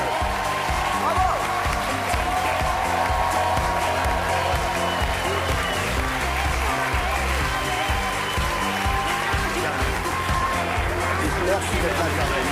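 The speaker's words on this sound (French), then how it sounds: "Applaudissements pour eux" Studio audience applause for guests Jermaine Jackson and David Serero on the French TV talk show Touche pas à mon poste, a dense, sustained clatter of many hands running throughout with voices talking over it.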